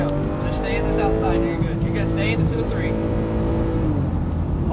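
Porsche 911 GT3 on a race track, its engine revving and pulling hard at close range with a rising, buzzing tone that runs continuously under an instructor's coaching voice.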